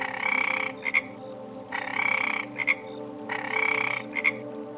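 A frog near a water tap croaks three times in even bursts, each a loud rasping call followed by a short double chirp, clear and alone against a quiet background.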